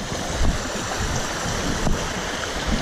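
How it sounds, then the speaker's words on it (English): A creek running high after a night storm at a river crossing on a practice hike, steady broadband rushing water close by, continuous and fairly loud with slight wind buffeting, no talking. "Come to the river crossing, creek crossing, whatever."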